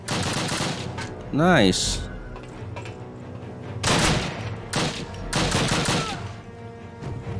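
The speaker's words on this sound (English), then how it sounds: "who the freak is shooting, bro?" Rapid gunfire bursts in a Call of Duty match, several loud volleys close by in quick succession, with a player briefly talking between shots.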